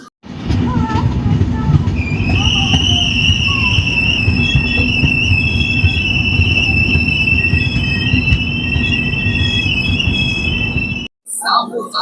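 12656 Navajeevan Express train running on rails between Warangal and Peddapalli Junction, a continuous rumbling roll with sustained high-pitched wheel squeal, heard from on board for about eleven seconds before cutting off.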